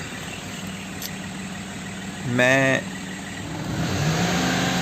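A car engine that had not started for four days idles with a steady hum, then gets a brief rev of rising pitch before settling back to idle, with a voice briefly heard.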